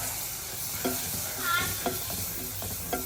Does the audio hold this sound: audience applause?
no